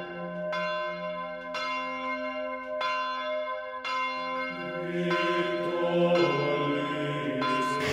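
Cathedral church bells ringing out, regular loud strikes each leaving a long shimmering ring, then more bells join into a fuller, busier peal toward the end, heard alone.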